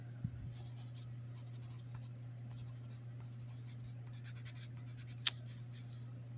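Dull pencil, likely a crayon-style colored pencil, scratching steadily across paper in continuous close strokes over a low electrical hum, with one sharp tap near the end.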